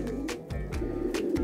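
Racing pigeons in a breeding loft coo in short repeated throaty pulses, close and fairly soft, with no talking.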